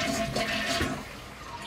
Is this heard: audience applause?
no